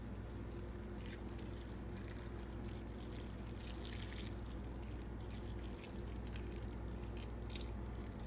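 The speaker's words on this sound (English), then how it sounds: "So I think I'm gonna go ahead and pour that over the vegetables now." Hot dissolved sugar liquid pours steadily over sliced vegetables for a namasu salad, a faint continuous trickle and splash beneath low background hum, no voices.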